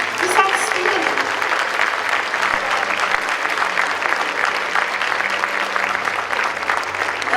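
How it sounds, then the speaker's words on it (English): A large audience at an MLK celebration breaks into loud, sustained applause, a dense wash of clapping that holds steady for several seconds with a faint voice underneath. "So I want you all to give yourselves a round of applause"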